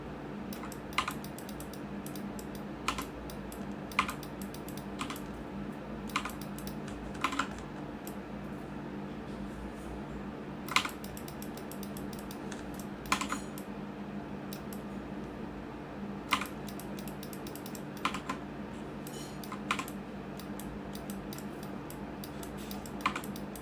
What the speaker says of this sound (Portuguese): Vai dando uns cliques e arrasta.